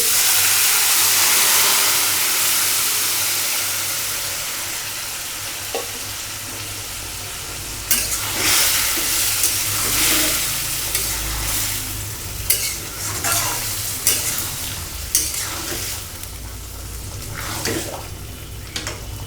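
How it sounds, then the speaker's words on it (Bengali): Chopped vegetables tipped into a pan of fried onions sizzle steadily and loudly, then a spoon scrapes and stirs through them in repeated close strokes over the continuous frying hiss. "পেঁয়াজ ভাজা হয়ে গেছে এখন হলো সবজি ঢেলে দিচ্ছি"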